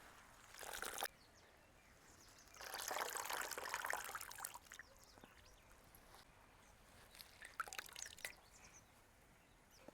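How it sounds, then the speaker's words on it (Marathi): Freshly cut fenugreek leaves are rinsed in water, with bursts of splashing and pouring that come and go between quiet trickles and drips. "अशी भाजी स्वच्छ धुवून घ्यायची"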